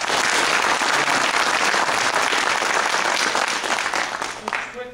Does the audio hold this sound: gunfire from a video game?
no